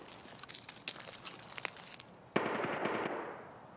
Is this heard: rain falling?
no